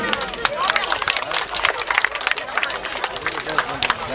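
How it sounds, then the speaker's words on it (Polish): A crowd at a school girls' football tournament final applauds an injured player: a dense, steady patter of clapping mixed with crowd chatter, moderately loud throughout. "duże brawa dla niej"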